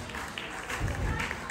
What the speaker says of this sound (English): So, big round of applause for Mr. Tony Gonzalez, international theatre